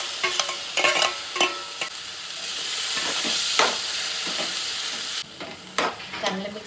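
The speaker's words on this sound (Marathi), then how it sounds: "चांगलं मिक्स करून घ्यायचं." Moong curry with salt and black masala paste being stirred in a kadhai, a steady hiss of frying broken by repeated spoon scrapes and clatters, close and fairly loud throughout.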